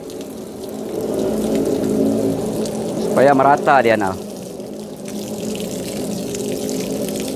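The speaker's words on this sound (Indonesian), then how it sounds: "setelah itu kita siram lagi air yang banyak, nggak masalah" Water is poured generously over plant growing medium after harvest, a steady wash of flowing water with a brief gurgling burst in the middle, under a person talking.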